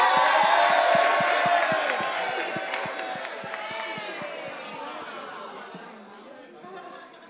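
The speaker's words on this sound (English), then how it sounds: "can we have a round of applause for Amarachi?" An audience at a Columbia University talk cheers and claps for Amarachi, loud whoops and crowd noise over steady rhythmic clapping that gradually fades.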